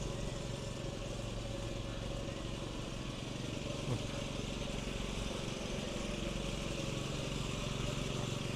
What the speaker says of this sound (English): somebody is mowing the grass here.